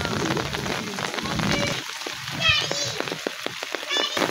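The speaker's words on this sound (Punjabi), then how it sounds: "ਬਾਰਿਸ਼ ਫਿਰ ਤੇਜ਼ ਹੋ ਗਈ ਆ ਜੀ" Heavy storm rain pours steadily during a cricket game in the rain, a dense continuous hiss with a louder patch near the start, while children's voices and shouts come and go over it.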